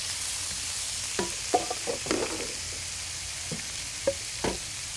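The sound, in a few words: beef sizzling while stir-frying in a wok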